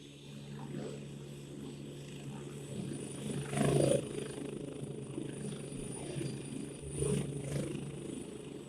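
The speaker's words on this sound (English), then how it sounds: "if we start the engine, we've got a helicopter this time" A synthesized helicopter engine loop from vehicle sound design software plays at a low level, a steady droning whir with rhythmic rotor pulsing that swells briefly twice.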